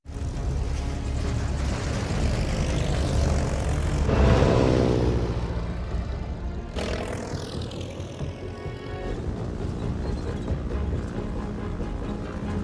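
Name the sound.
propeller aircraft taking off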